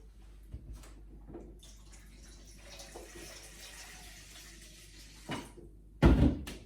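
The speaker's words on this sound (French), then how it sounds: "On va prendre de l'eau chaude ici." Hot water runs into a plate being readied for nems, a soft, steady splashing flow lasting a few seconds, followed by a couple of close knocks and a louder thump as the plate or container is set down.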